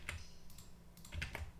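A computer keyboard is typed on in a few light, scattered clicks, quiet and close, with no voices.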